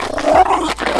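A short, close, low pit bull growl lasting about a second, rough and rumbling with no voices.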